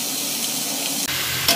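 Chopped bottle gourd hits hot oil with nigella seeds, giving a steady close sizzle with a brief stirring scrape and a sharper hiss near the end, no voices.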